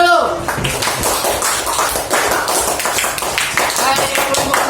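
A classroom group claps together in a dense, steady burst of applause lasting several seconds.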